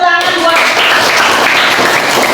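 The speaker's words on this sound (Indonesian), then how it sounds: "Ya, tepuk tangan buat." Students in a classroom break into a brief, loud burst of dense clapping right after a short voice, the applause filling the moment evenly.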